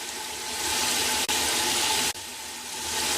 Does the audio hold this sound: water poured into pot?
yes